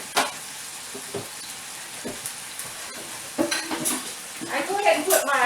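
Italian sausage browning in a pan, giving a faint, steady sizzle with occasional scrapes and clinks of a utensil against the cookware.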